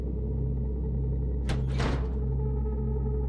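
A big door in a horror video game opens with a short rumbling grind, two quick scraping surges rising over a steady low drone and then settling back into the hum.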